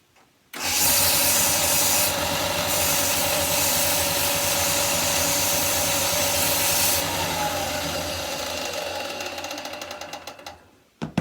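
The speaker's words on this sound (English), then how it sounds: "I'm going to sand both ends" Power sanding on the cut ends of wire for a puppet mechanism, a loud steady grinding whir running continuously for about ten seconds before winding down.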